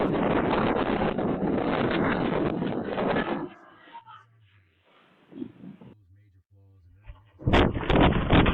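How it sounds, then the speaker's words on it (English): Strong typhoon wind gusts roar and buffet the microphone for about three seconds, drop to a near-quiet lull with faint indistinct sounds, then surge back loudly at the end. "Strong winds blew dust and sand all over the city, reducing visibility and making it difficult for pedestrians."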